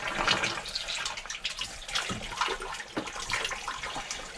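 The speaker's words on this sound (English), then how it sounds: "So the water is on, and it's hopefully going through the system" Water from a hose pipe flowing through a boat's plumbing system to clear airlocks, a continuous soft rushing and splashing with faint gurgles, fairly quiet.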